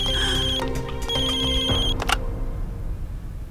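A telephone ringing in a quiet home at night, with repeated electronic ring bursts that stop partway through, followed by near silence.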